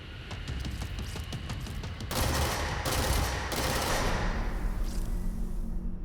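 Gunfire in the video game Control, with rapid bursts of close shots followed by heavier blasts and rumbling booms, dense and loud throughout with no talking.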